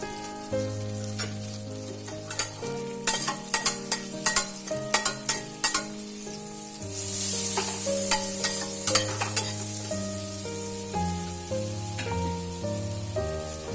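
Cut red chilies fry in a pan with a bright, crackling sizzle. Utensil scrapes and taps come in bursts of stirring, then the frying swells into a louder, steady hiss. No one speaks.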